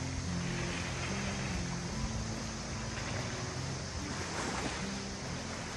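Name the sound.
waves on beach at high tide, windy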